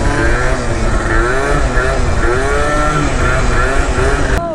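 A Yamaha Zuma 70cc BWS scooter revs steadily during slow wheelies, its engine note rising and falling in repeated sweeps. It is loud and close, with a brief sharp change near the end.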